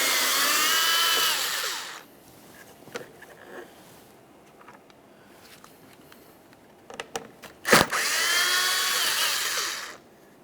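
Power tool work on the front license plate bracket of a 2012-2015 Honda Civic, removing Phillips head mounting screws: two loud bursts of drilling, one at the start and one near the end, with quiet handling clicks between.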